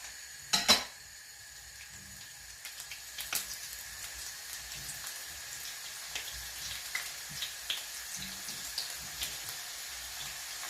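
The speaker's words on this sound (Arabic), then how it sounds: "بعد ما خلصنا الكوسة حشي رح نقليها بالزيت النباتي" Stuffed zucchini fry in vegetable oil as faint, scattered crackles and pops over a quiet hiss, opening with a sharp clatter of a utensil against the pan.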